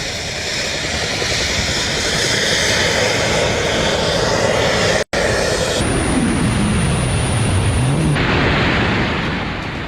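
A jet suit's engines blast as a person flies, a loud, steady roar that cuts off briefly midway, then returns with a shifting, rising whine.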